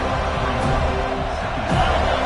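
A stadium crowd at a football game roars in a continuous, dense wash of noise as the defense tries for a red zone stop, swelling slightly louder toward the end.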